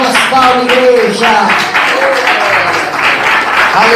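A church congregation claps loudly and continuously during a service, a dense, sustained patter of many hands with singing or voices mixed in.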